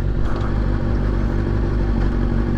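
A 2009 Kawasaki ZX-6R sport bike with a slightly sticky throttle, its engine droning loud and steady up close while being ridden, a dense continuous rumble with no talk over it.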